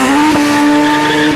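Racing cars on a hillclimb, a VW Golf Turbo and a BMW 3 Series, roar loudly with a sustained high engine note that shifts pitch, close and continuous with brief tire squeal.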